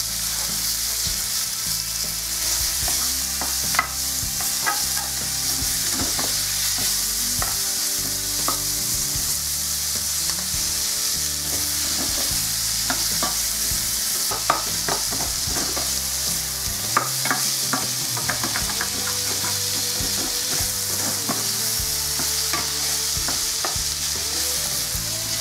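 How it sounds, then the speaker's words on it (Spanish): Sliced onion is tipped into hot oil in a pan with flour stuck to the base, left from frying chicken thighs for a beer braise, and it sizzles loudly and steadily while a spoon scrapes and stirs through it, with no talking. "Ahora en este aceite vamos a incorporar la cebolla."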